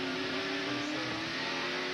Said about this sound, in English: This is in second gear. He'll start accelerating off.